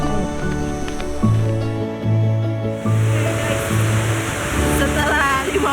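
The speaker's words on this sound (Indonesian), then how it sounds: "Kita sudah mau sampai di depan situ air terjun Kamumu." Kamumu waterfall in Sulawesi, a steady broad rushing roar of falling water, fairly loud and continuous, with faint voices and other sounds beneath it.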